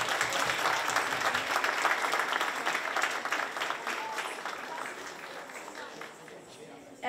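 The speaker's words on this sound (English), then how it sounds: "So if everyone could please give a big round of applause to Aunty." An audience applauds loudly after a student dance performance, with dense, continuous clapping that gradually thins and fades toward the end.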